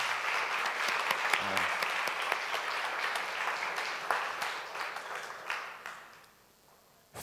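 An audience applauds after a presentation on Slovenian methodology for creating memorable events, steady clapping with sharp individual claps that fades out toward the end.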